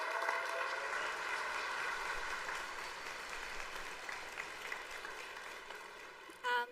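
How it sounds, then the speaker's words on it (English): Dense audience applause fills a conference talk session at App.js Conf 2024, clapping steadily throughout before cutting off near the end. "Can we give them a massive round of applause?"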